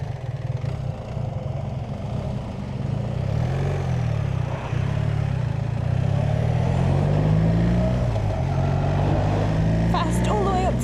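A touring motorcycle on a road trip accelerates hard to overtake, its engine droning loud and close with rising pitch sweeps over steady wind rush, and a voice briefly heard over the ride.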